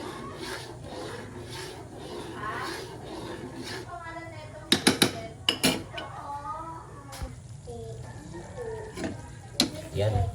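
Thick, heavy sticky rice biko flavoured with pandan is stirred in a pot, with scraping and the clink of a utensil against metal, several sharp knocks near the middle and end. Someone talks over it throughout.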